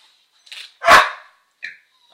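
A dog barks three times at close range, a short bark, then a loud full bark, then a quick yip, with silence between, no talking.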